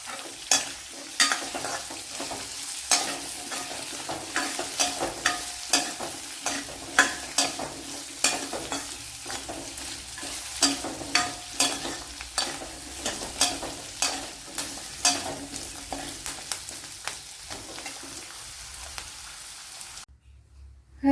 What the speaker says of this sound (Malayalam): ഒരു 5 മിനിറ്റ് തുടരെ വഴറ്റിയെടുക്കണം